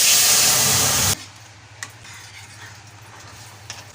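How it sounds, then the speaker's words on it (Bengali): Matar dal lentils poured into hot mustard oil tempered with dried red chillies and five-spice, a loud broad sizzle that cuts off sharply after about a second, leaving a faint quiet simmer. "এবার ডালটা ঢেলে দেবো।"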